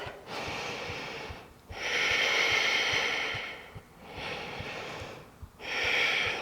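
Steady, deep breaths drawn in and let out during a low yoga squat in a power yoga session, four long broadband rushes of air with short pauses between, close and clear with no talking.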